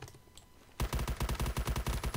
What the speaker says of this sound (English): just randomly shooting